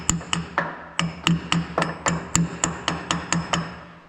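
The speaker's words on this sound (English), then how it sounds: "Take this small hammer, just gonna tap on that." Small hammer tapping on a metal part of a Gleaner R52 combine during throat removal, about sixteen sharp, ringing metallic taps in a steady, fairly quick rhythm, close and clear.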